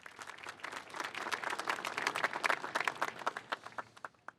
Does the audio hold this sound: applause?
yes